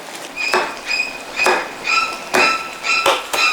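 Kitchen scissors snip chili peppers into a pan at a food festival cooking stall. About seven crisp, sharp cuts come in a fairly even rhythm, close and clear.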